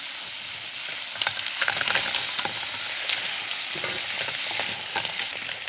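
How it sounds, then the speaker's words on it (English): Clams cooking in a pan with chili bean sauce and oil are stirred, giving a steady close sizzle and frying hiss broken by scraping and clinking stir strokes throughout. "And stir a little bit. Then I put all the clam in it."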